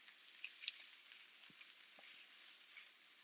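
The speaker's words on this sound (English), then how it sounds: "We're going to saute that for about 3 minutes to let it soften and let all the flavors mesh." Diced bell pepper sizzles steadily as it sautes in a pan, a continuous soft crackling hiss with a few brief pops and light stirring taps, heard alone without talk.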